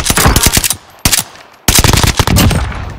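Automatic gunfire in the video game Warzone rattles out in loud, rapid bursts, breaks off briefly, then resumes in a longer close-range burst.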